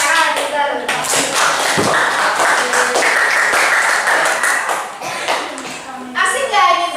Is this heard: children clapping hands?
yes